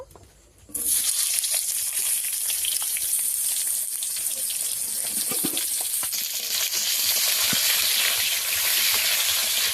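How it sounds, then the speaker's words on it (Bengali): Eggplant dropped into hot oil, a sudden loud hiss that swells into a continuous, dense sizzle lasting several seconds with no voices. "বেগুন ভেজে নেব।"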